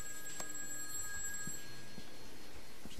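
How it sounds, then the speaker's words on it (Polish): A telephone rings in the horror video game Those Who Remain, a continuous electronic ringing tone over a dim room ambience with a few soft knocks and no talk. "Wiem, że telefon dzwoni"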